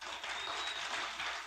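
Audience at a political rally in Rio de Janeiro clapping steadily, a dense wash of applause from a crowd heard at moderate distance, continuous for the whole moment without talking on top.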